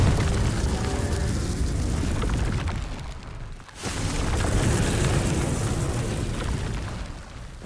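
The Confringo fire spell going off in Hogwarts Legacy, heard as a sustained loud roaring blast of crackling rumble that drops out briefly partway through and then surges back.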